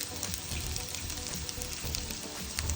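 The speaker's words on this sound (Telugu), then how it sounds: "ఒక 2 నిమిషాలు వేగితే సరిపోతుందండి, ఎక్కువ టైం ఏం పట్టదు ఇది వేగటానికి" Ginger garlic paste frying in a pan over medium flame, giving a steady, even sizzle throughout with a soft, crackling texture and no talk.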